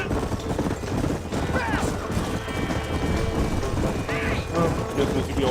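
Horse hooves clip-clopping at a gallop in the Red Dead Redemption video game, a steady rhythmic clatter mixed with game music and effects, with a person talking over it.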